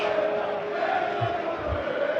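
An arena crowd at a European Open darts semi-final sings and chants Peter Wright's name in a sustained, loud, tonal wash of voices with a couple of low thumps underneath.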